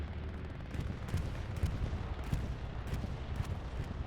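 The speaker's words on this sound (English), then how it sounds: "I do hear the counter bombing run coming through" Distant rumbling explosions and gunfire-like cracks from a bombing run in a video game roll through in quick succession, low and muffled, passing in the distance.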